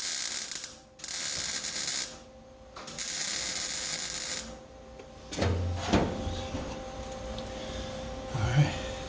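Welding on a Ford F100 pickup's floor pan: several loud bursts of crackling, buzzing arc, each lasting one to two seconds with short gaps, followed by quieter clanks and handling noises, and a voice in the background.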